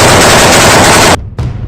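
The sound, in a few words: gunfire from fighters firing inside a room, news footage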